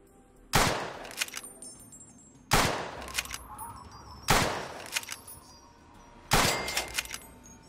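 Gunshots aimed at giant fire ant soldiers in Fallout's Tale of Two Wastelands: four loud, evenly spaced blasts, each with a booming tail and echo, fired about every two seconds, no talking.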